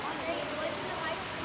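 Water churns and bubbles up through the top of a filter at a water treatment plant, a steady broadband rushing that stays even and continuous throughout at moderate level.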